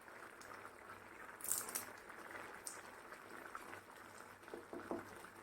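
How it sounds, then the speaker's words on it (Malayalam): Coconut tomato curry with okra bubbles in a pot, a soft steady simmering burble with occasional louder pops, close and alone. "ഇതൊന്ന് നല്ലപോലെ ഒന്ന് തിളക്കട്ടെ. നാളികേരം ഒഴിച്ചിട്ട് നല്ലപോലെ തിളച്ച് കഴിഞ്ഞു."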